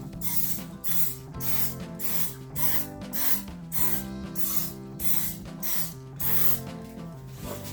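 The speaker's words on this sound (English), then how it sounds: "Next, I'm just going to quickly grease our baking pan in preparation for the tarts." Cooking oil is sprayed onto a baking pan for tarts in a rapid series of short hissing bursts, about a dozen evenly spaced puffs close to the mic.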